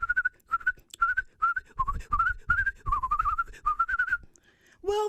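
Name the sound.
whistling imitating birds in a storytelling performance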